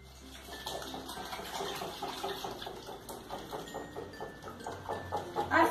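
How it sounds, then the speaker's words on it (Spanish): One litre of milk is poured slowly into a homemade flan mixture of eggs, sugar and vanilla, making a soft, continuous liquid splashing and gurgling, close and fairly quiet, with no talk over it. "Y ahora le vamos a agregar lentamente 1 litro de leche."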